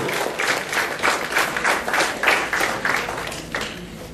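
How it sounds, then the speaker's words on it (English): An audience at a school event applauds as youth leaders are welcomed, loud steady clapping from a crowd with a rhythmic, pulsing quality that tapers off toward the end. "The youth leaders, put your hands together in welcoming them."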